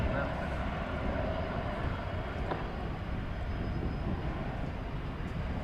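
An American Airlines airliner in flagship Valor livery, arriving from Charlotte, rumbles at DFW airport as a faint, steady, distant roar with no clear change throughout.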